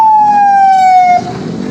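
A loud, close police siren on a road, one long wailing tone sliding steadily downward before cutting to a lower fading tail, with motor traffic noise underneath and no talk.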